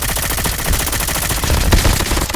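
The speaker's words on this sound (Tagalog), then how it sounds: "Teka lang, may bumabaril pang isa." Rapid automatic gunfire from a video game fills the moment, loud and continuous with dense overlapping shots and a few heavier bursts near the end, no talking.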